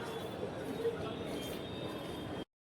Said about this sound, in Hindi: मेट्रो आते हैं फिर चलेंगे इधर की तरफ।